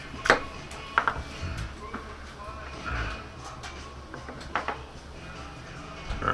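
A knife cuts a chayote in half down the seam on a kitchen surface, giving a few sharp chopping knocks spaced about a second apart, close and moderately loud, while a person talks over the cutting.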